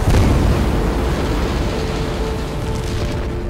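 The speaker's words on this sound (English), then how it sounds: "At liftoff, the two rocket boosters and the core stage all ignite on launch pad 39B." SLS rocket's two boosters and core stage igniting at liftoff on launch pad 39B, a loud, dense, continuous roar filling the whole range, steady and overwhelming throughout.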